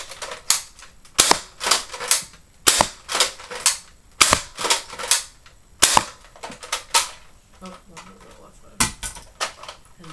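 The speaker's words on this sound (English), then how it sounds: "here's a quick firing of this blaster." Longstrike toy blaster firing in a quick series, about a dozen sharp snapping shots in an uneven rhythm, each with a short rattling tail, close and loud, with brief mechanical clicks between.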